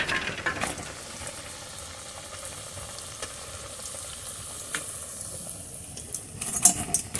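Soybean and potato veggie nuggets fry in hot oil with a steady, close sizzle and crackle, some sharper pops near the end, and no voices.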